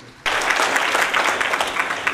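An audience at a religious discourse breaks into clapping, starting abruptly after a brief quiet and continuing as dense, lively applause to the end.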